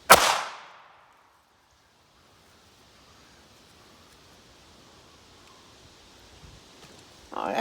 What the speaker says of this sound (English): Wow, that is a lot of muzzle energy.